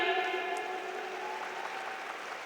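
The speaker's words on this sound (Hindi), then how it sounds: "इस सिस्टम के रचयिता मिस्टर कमल नारायण साहू के लिए एक जबरदस्त ताली हो जाए।" An audience gives a hearty round of applause at a direct selling company's anniversary event, a steady wash of many hands clapping at moderate volume with a faint tonal hum running beneath.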